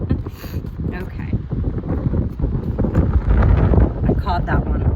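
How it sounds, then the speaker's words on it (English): Strong outdoor wind buffets the microphone in loud, uneven rumbling gusts, while someone talks over it the whole time. "Gosh, it's so windy"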